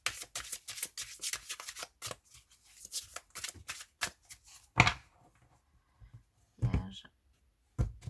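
Tarot cards shuffled by hand for a reading, close and crisp: quick riffling bursts of papery snaps, then a pause and a few separate flicks and taps.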